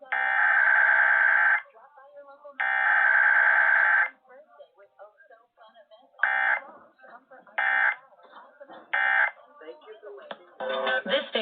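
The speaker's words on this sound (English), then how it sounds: "The following is a test of the emergency alert system." Emergency Alert System test tones from a Sunday-morning radio station test: two long loud steady alert tones, then a string of short bursts and choppy data-like bleeps close together, with a faint voice murmuring underneath in gaps.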